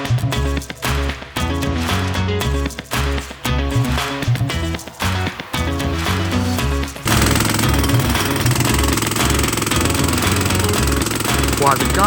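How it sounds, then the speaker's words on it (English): Loud, continuous rapid hammering like a jackhammer breaking the concrete of an old pond, steady throughout, growing harsher and brighter in the second half. "While the guys are hammering away in the back"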